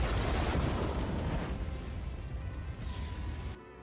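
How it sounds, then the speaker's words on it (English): A big explosion from The Book of Boba Fett season finale roars as a loud, broad blast that slowly rumbles and fades over several seconds before cutting to near silence. "And this predictable explosion."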